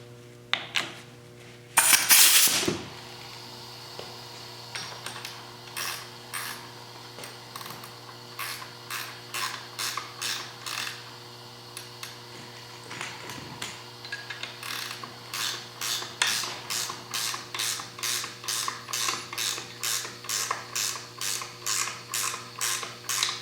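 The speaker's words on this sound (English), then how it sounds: "I'll try to operate the valve while I'm putting it in" Valve of an A-type overdrive worked by hand during reassembly, giving a loud clunk near the start, then a long run of rhythmic mechanical clicks and ratcheting scrapes repeating steadily, close and alone.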